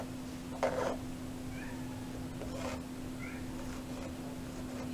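A pet cat called Cheddar gives a short, clear meow, then a few softer meows follow over a steady background hum indoors.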